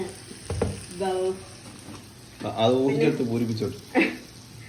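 Oil poured into a pan and frying for a chilli-spiced dish: a hissing sizzle heard under a person talking, with a couple of louder clanks.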